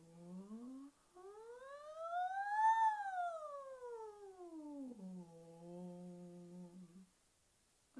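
A single voice imitates a rising and falling two-tone siren, sweeping up to a high peak and back down, then holding a steady lower wail before stopping; close and clear, with no other sounds.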